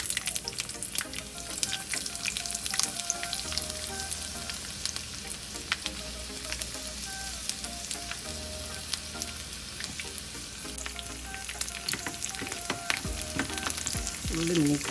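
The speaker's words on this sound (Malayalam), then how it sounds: "ഇനി അതിനകത്തോട്ട് നമുക്ക് അരിഞ്ഞ് വെച്ച ഉള്ളി ഇടാം." Chopped onion fries in oil over mustard seeds that have already popped, for a jackfruit-seed and mango curry. A soft, continuous sizzle is heard with occasional crackles and light stirring, fairly quiet and with no talk.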